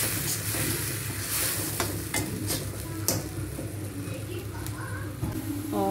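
Spices such as turmeric, cumin-coriander powder and salt are stirred into a gravy for parwal sabzi in a pan, making a busy frying sizzle with repeated scraping strokes and small clinks, all close and steady.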